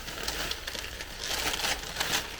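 Plastic or paper wrapping on a purchased home decor item crinkles and rustles steadily up close, a continuous crisp scratchy texture with brief louder crackles and no talking.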